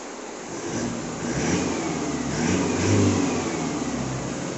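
A remapped car engine with its EGR blocked off, tuned to rev up quickly, revs in rising and falling bursts at a steady medium pitch, close and loud throughout with no talking.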